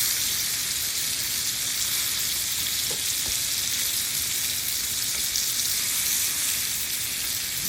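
Pork sizzling and searing in a hot pan, a loud continuous hiss and crackle of frying that fills the whole stretch without pause.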